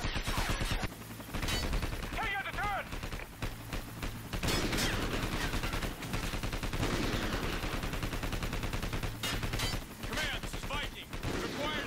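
Remote sniper gunshots in a video game mission called Struck Down sound as repeated sharp cracks and rattling gunfire amid continuous battle noise, moderately loud, with voices talking at times.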